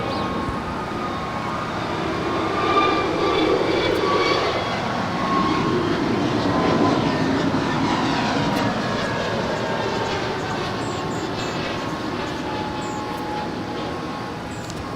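An American Airlines Airbus A321neo jet passes at an airport, a broad, steady roar that holds at an even loudness for the whole stretch, with no talk over it.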